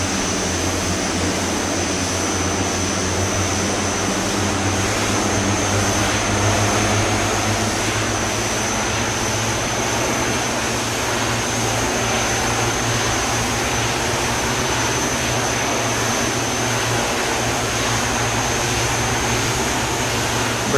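Steady, loud drone of twin turboprop engines on a de Havilland Twin Otter in a Prepar3D flight simulator, a continuous propeller hum with low-frequency throb held throughout as thrust builds, no talk.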